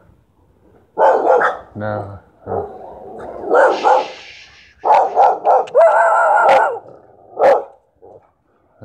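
Several dogs bark and yip in short, loud bursts, some close and some farther off, mixed with a person speaking briefly between the barks.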